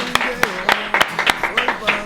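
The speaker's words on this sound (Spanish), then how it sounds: "Le presento a Erika, aplauso para ella." A small group claps in a steady, even rhythm to welcome a woman being introduced, the sharp hand claps close and clear with voices talking over them.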